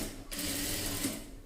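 A sewing machine runs steadily while stitching a chudi pant, the motor whirring continuously at close range after a brief pause at the start, with no talking over it.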